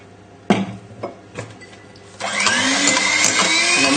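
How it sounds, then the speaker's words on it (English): Sugar is whisked into a lemon curd souffle mixture in a bowl: a few separate knocks first, then a steady, busy whirring of beating that runs to the end, close and fairly loud. "then we'll just give it a little whisk again"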